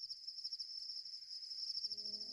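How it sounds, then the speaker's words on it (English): Pacific field crickets (Teleogryllus oceanicus) singing in a steady, bright, continuous chirping trill, alone and fairly close, with a low rumble rising at the very end. "They were Pacific field crickets, Teleogryllus oceanicus. And their song was round, bright, and sweet. 4 loud chirps culminating in a husky trill."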